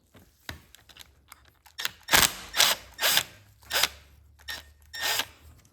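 Short ratcheting clicks and turns come from a driver working T25 Torx bolts out of the hand controls on a wrecked Harley Sportster. The bursts are close and intermittent, several in a row, with quiet gaps between them.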